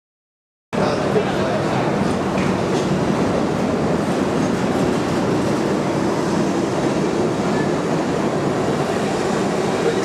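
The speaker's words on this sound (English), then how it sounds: "This way you compete against all the noise of the train all the time." A train running on rails makes a continuous, loud, close rumble and roar that starts suddenly and holds steady throughout.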